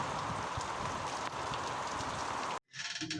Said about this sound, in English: The rain is not against us, the rain is for us.